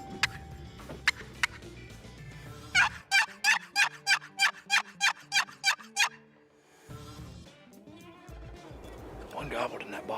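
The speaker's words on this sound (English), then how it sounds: "One gobbled in that bottom." Wild turkey gobbling in a wooded bottom during spring hunting season, a rapid rattling series of about a dozen evenly spaced pulsed calls standing clear above quiet outdoor ambience, with scattered clicks and soft talk nearby.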